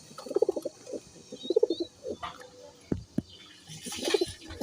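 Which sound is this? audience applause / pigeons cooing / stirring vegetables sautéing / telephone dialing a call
pigeons cooing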